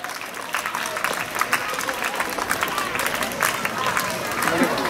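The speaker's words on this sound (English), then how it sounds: "Now you should clap for everyone who receives a prize." Students clapping for prize winners at a school sports day, a steady crowd of claps with background chatter throughout.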